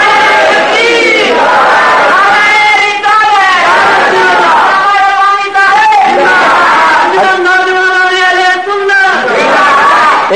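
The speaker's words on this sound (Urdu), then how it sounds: "دیکھیے زیادہ نعرے نہ لگائیے" A religious gathering's crowd chants slogans in loud, rhythmic unison, the voices rising and falling in repeated call-like phrases that fill the space throughout.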